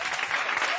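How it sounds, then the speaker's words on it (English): An audience at a theatre event for a stage musical bursts into a brief, dense round of clapping that stays loud and steady throughout. "Give them another big round of applause, please."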